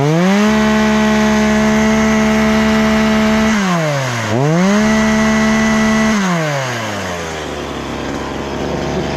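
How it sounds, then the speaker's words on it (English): A small two-stroke chainsaw, one of several Stihl, Echo, Olympyk, Mac, Husqvarna or McCulloch saws being repaired, runs loud and close, idling steadily, then revving up and dropping back twice before settling to a lower idle. "That's a good chainsaw."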